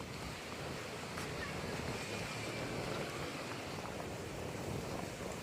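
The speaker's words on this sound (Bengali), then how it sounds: "তুফান উঠছে তুফান উঠে গেছে" Strong storm wind rising and roaring steadily into the microphone, with a broad surf-like rush throughout and no clear gaps, loud and close.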